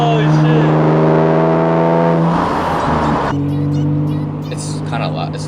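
A new car's engine runs loud and steady with a deep, constant hum, revving briefly in the middle, while people talk excitedly over it inside the cabin.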